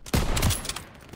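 Gunfire in the World War II shooter Call of Duty WWII, a sharp close burst of several rapid shots followed by a fading echo and a faint extra pop, with no voices.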